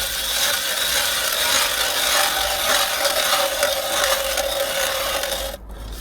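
A hand auger drills a hole through thick lake ice for pike fishing, making a steady, close grinding rasp that runs continuously for about five seconds before stopping abruptly.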